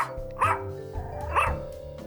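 A dog in the Stillwater video game gives two sharp barks about a second apart over a quiet background hum, fairly close.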